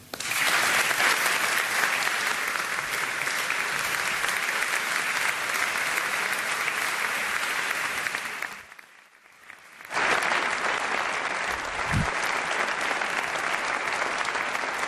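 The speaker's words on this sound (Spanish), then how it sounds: "Son los aplausos" Dense, sustained applause from a large audience at the Premio Cervantes 2009 award ceremony after the king's speech. It runs loud and continuous with no talk, briefly dipping near the end before surging back.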